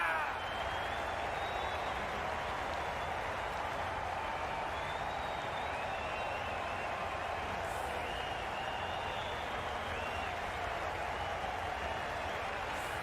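A stadium crowd at an IPL cricket match between Kings XI Punjab and Royal Challengers Bangalore at D Y Patil Stadium applauds a departing batsman, with steady, sustained applause and cheering filling the whole stretch.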